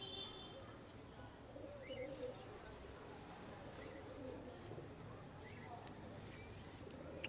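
Teddy pigeons, a pet breed, coo faintly against steady insect and cricket hum, with soft bird calls scattered across a quiet outdoor loft.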